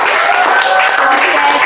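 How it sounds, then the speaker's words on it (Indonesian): A high-school class breaks into a short burst of applause for fellow students, dense clapping from many hands filling the room at close range, with voices mixed in. "Tepuk tangan untuk kalian semua."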